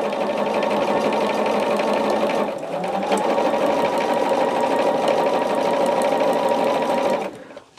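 Sewing machine running continuously to stitch a quarter-inch seam on a quilting project, close and loud, with a brief change in pace partway through and stopping at the end.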